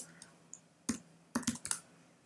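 A few scattered key clicks from typing on a computer keyboard, quiet and irregular, with short bursts of three or four taps against a faint steady background hum.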